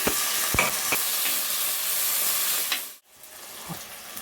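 Mustard, cumin and fenugreek seeds sizzle loudly in hot oil while a fish curry is cooked, a dense steady crackling hiss with a few sharper pops, which drops out abruptly near the end and then resumes more quietly.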